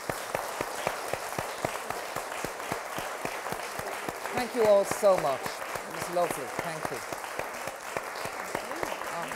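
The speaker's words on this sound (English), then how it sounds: "Give them a round of applause" A lecture-hall audience at a Royal Irish Academy discourse evening gives the speakers a round of applause, crisp individual claps rolling on steadily while a speaker talks briefly over it.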